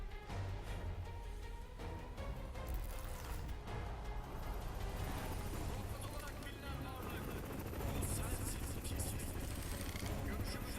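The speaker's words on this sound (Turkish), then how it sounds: "Adam helikopterle sıkıyor bana." Helicopter firing at the player in the video game Crysis 3, a dense, continuous wash of gunfire and rotor noise at steady loudness, with someone talking over it.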